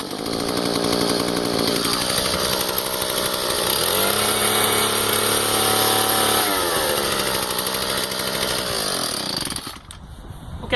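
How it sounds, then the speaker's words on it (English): A repaired TB320BV leaf blower's small two-stroke engine runs loud and close, holding a steady high whine with a couple of throttle swells before cutting off near the end. "Got the blower all put back together and some fuel in it"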